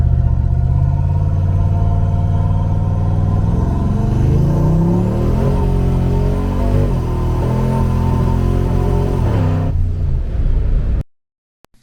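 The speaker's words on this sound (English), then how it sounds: "took it for a test drive at a later" A car with an electronic boost controller, still misfiring after new plug wires, drives on a test run: steady close engine drone with rising and falling revs and gear changes, cutting off abruptly near the end.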